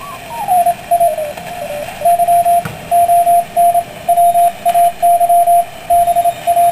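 Morse code CW signals tuned on a 40 m regenerative receiver: a clear pitched tone keying on and off in irregular dots and dashes over a faint hiss, loud and alone.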